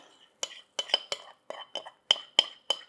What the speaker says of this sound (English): We are just going to spoon that fabulous mixture